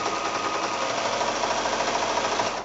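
A sewing machine runs steadily while stitching strips of quilting fabric together, a close, continuous whirring hum with a fast, even rhythm that carries on for nearly three seconds before easing off at the end.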